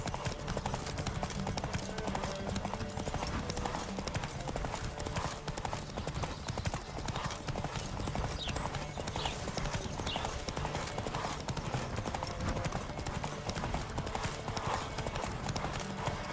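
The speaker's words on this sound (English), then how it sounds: "Don't spare the horse." Rapid, steady hoofbeats of a galloping horse in The Witcher 3: Wild Hunt pound on without a break, loud and close, over a low rumbling bed of sound.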